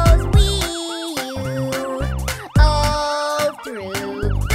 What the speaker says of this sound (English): The siren on the fire truck goes wee-you,